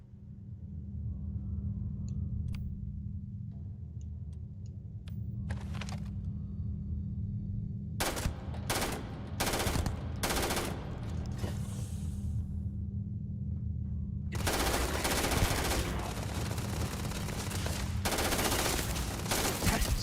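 Unsilenced gunfire in Starfield, a sci-fi video game: repeated loud bursts of shots over a steady low rumble, with sharp clustered blasts midway and a dense sustained volley near the end.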